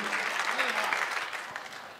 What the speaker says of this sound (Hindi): जोरदार तालियां एक बार बजा दीजिए।